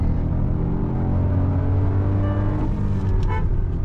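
A Kia Syros 2025 car launches from standstill, its engine drone rising steadily in pitch under constant road noise, with a short horn-like toot near the end and no talk.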